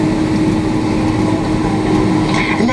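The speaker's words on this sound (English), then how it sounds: "我们的飞机已经着陆，飞机还将滑行一段距离" Cabin of an Air China Boeing 767 taxiing after landing, a steady, loud engine drone and rumble filling the space without pause.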